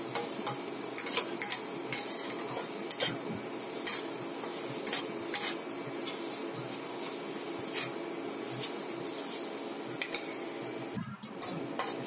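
Grated carrots frying in ghee in a pan while being stirred, a steady close sizzle with scraping and clinking strokes throughout and a brief pause near the end.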